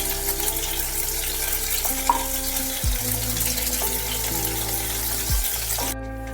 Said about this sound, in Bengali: পটলগুলো কিন্তু বেশ ভাজা হয়ে গেছে।